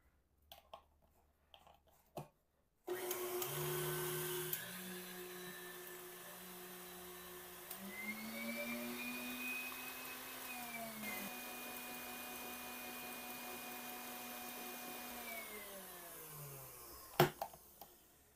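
An electric mixer whips unsweetened whipping cream, switching on with a steady whirring drone whose pitch rises and falls as the speed shifts, running alone for about fifteen seconds before a click and a stop.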